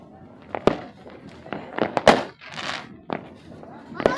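Firecrackers go off at a New Year celebration, sharp scattered bangs and pops at irregular intervals, some near and loud, others softer, with people talking between them.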